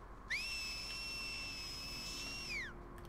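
Enemies in The Last of Us Part II give a single long, clear whistle that rises, holds steady and then falls away over a low background hum.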